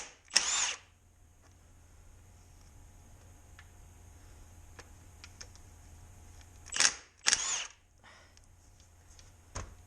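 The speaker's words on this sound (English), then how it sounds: "I'm going to use the impact to try and shock them instead of locking the whole crankshaft down." An impact wrench works on the nuts of a Caterpillar D2 motor. It fires in a few short, sharp hammering bursts, one at the start and a couple near the end, separated by quiet workshop background.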